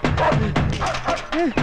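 Dogs bark and yip while chasing someone in a comedy scene, short bursts of barking mixed with frantic shouting voices close by.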